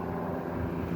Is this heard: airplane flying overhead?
yes